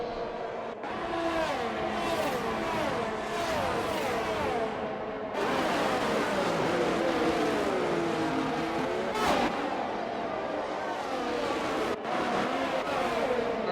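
Race cars accelerating hard through the Baku castle section in a racing video game, several engines revving and shifting up in overlapping rising whines, loud and continuous as a pack passes.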